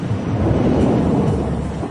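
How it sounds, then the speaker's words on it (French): Thunderstorm rolling over Little Rock airport, a continuous deep rumble of thunder with heavy broadband wash, steady and loud across the whole span with no voices. "On a un orage au nord-ouest de l'aéroport, il est en train de traverser la zone"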